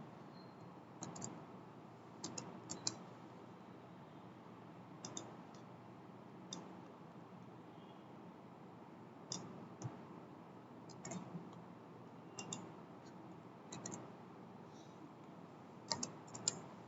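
Typing on a computer keyboard, faint scattered bursts of light key clicks separated by pauses over a quiet room background, with no talking.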